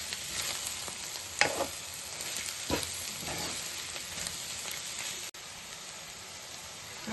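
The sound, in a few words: roasted peanuts stirred into frying ivy gourd coconut fry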